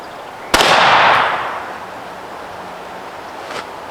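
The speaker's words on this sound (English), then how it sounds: "So I'll make an adjustment, shoot it again." A single loud shotgun blast from the top barrel of a Savage Stevens 555 over-and-under firing TSS loads while sighting in outdoors, with a sharp crack and a long decaying tail, followed by a faint distant pop near the end.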